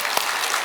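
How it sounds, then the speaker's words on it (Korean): A church congregation claps for children who answered a question during a Sunday service, a short burst of steady applause with one sharper clap standing out. "박수."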